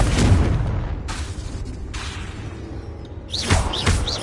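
A Confringo blasting spell exploding in Hogwarts Legacy, a heavy booming blast up front that decays into a rumbling tail, followed by further thumping impacts and whooshing magic effects, with no speech.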